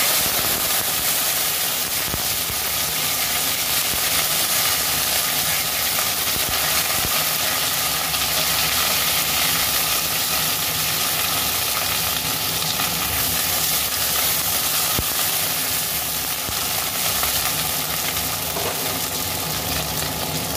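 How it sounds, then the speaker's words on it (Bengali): Okra (bhindi) frying in a pan, a steady loud sizzle with no break, hissing and crackling without pause for the whole stretch. "ভেন্ডি ভেজে নেব।"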